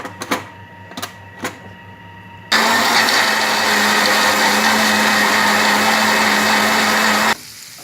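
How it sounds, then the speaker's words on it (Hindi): An electric blender grinds masala for chicken kabab, loud and close: a few faint knocks first, then a steady high whirring roar for about five seconds that cuts off abruptly. "और इसको मसाले को अच्छी तरह से पीस लूँ"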